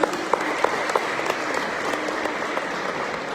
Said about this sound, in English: Can we give Dr. Malcolm a round of applause